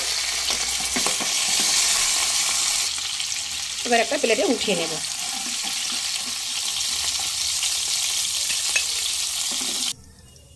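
A catla fish head fries in hot oil until well browned, then is gently broken apart. A continuous close sizzle runs throughout with brief utensil scrapes and a short spoken line midway, then stops suddenly near the end.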